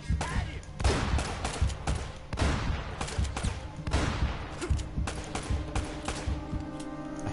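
Shotgun fire in the video game Uncharted: Drake's Fortune: a string of loud, booming blasts comes in quick succession over a dense, chaotic firefight, with a few brief blasts standing out.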